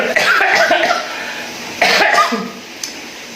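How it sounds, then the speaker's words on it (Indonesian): A loud, close coughing fit: a rough cluster of coughs, a brief pause, then another harsh burst and a final small throat sound. "Batuk."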